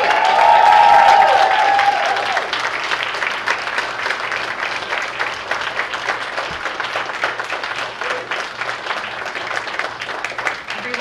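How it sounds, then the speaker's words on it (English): Audience applause for nursing graduates at a university pinning ceremony, a loud, sustained wash of clapping that runs the full length, strongest in the first couple of seconds, with a brief cheer near the start. "one big last round of applause"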